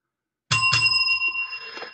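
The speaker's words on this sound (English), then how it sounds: "That was a double bell." A tabletop service bell is struck twice in quick succession, two bright close rings whose metallic tones hang and slowly fade, with no talk over them.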